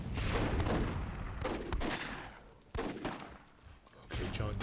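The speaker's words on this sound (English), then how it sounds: "Spy's gonna get gunned down." Gunfire in a WWII-themed Myth II Soulblighter game match, heard as dense, repeated bursts of shots and booms that stay loud almost throughout with brief lulls, with no talk over it.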